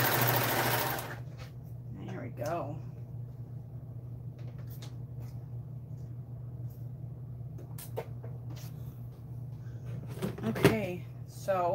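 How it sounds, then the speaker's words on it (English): A sewing machine stitching pajama pants gives a steady low motor hum after a brief louder burst at the start, with a few faint clicks and soft voices near the end. "I love this machine. It just sews like butter."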